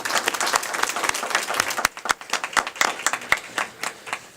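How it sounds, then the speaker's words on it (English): Enthusiastic applause from an audience at a board of trustees meeting, a dense wash of clapping that thins into scattered individual claps toward the end. "another round of applause"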